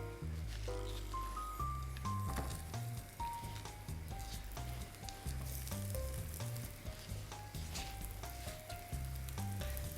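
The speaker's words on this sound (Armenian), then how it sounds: "Երկու կողմից տապակում ենք," A steady frying sizzle as Austrian kledlik fry on both sides in a pan runs beneath loud background music with a bass line and melody, continuous throughout.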